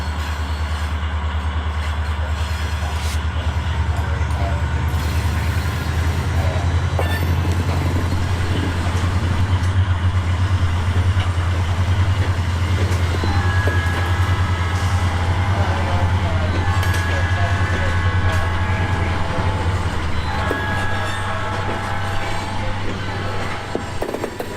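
An HO scale model train rolling back into a yard on a Norfolk Southern Asheville District layout, a steady low motor rumble and hum with faint clicking, continuous and close, under occasional talk.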